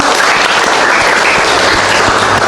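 Loud, dense applause from a room of students at a nursing lecture, a steady wash of many hands clapping close by for the full span with no talk over it.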